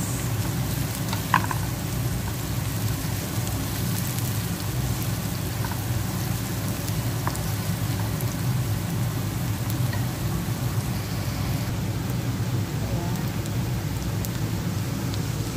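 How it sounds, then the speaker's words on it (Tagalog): Onions sauté in a frying pan for lasagna, a steady, close sizzle and crackle running the whole time with a few faint clinks, no talking. "Simulan po natin ang pag-igisa sa sibuyas."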